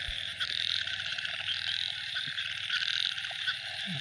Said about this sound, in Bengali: কি সুন্দর ব্যাং যাচ্ছে কট কট করে